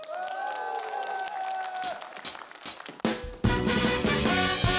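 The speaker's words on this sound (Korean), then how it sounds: "큰 박수로 함께하겠습니다." Audience applause and cheering at a televised Korean music show, rising from a sustained tone into loud, dense clapping and crowd noise with music.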